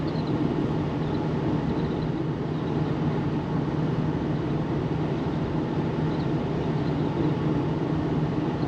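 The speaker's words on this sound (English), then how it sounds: "Bit of wind noise over here." Steady broadband wind rush and road drone fill the cabin of a 1973 Mercedes-Benz 450 SE cruising at highway speed in third gear, constant and moderately loud with no voices.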